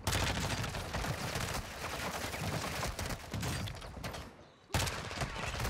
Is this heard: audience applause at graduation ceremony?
no